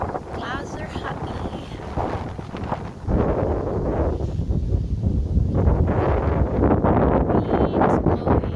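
Wind at Lake Samsonvale in Fordan Park roars and buffets the microphone in a loud, continuous rush that grows heavier after a few seconds, with gusty rustling throughout.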